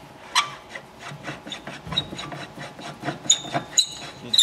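A nut spun off a car drop link by hand, giving light scraping and rasping turns of metal on thread with small irregular clicks, close up and without talk.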